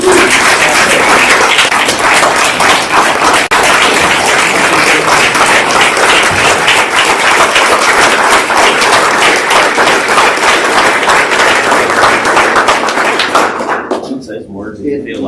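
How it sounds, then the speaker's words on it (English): A large crowd applauds steadily and loudly for most of the clip at a State Bar Council meeting, then the clapping dies away near the end. "let's give a round of applause"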